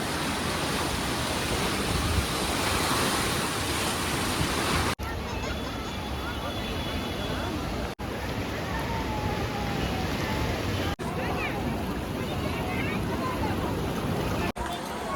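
The Ganges current surging past a flooded, sand-covered ghat in Rishikesh, a dense, steady rushing roar of water that fills the whole clip, broken by a few abrupt cuts.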